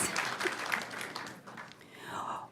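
Applause rises for actor Tony Plana at a school board reception, a moderate spread of clapping held at some distance for a couple of seconds, fading slightly before swelling again at the end.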